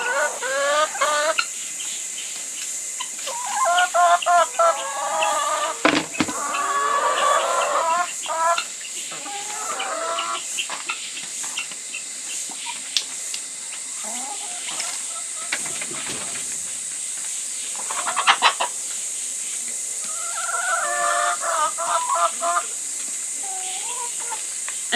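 Chickens clucking and calling while pecking at sunflower seeds given as a treat, steady murmuring cackles with a constant hiss in the background, no talking.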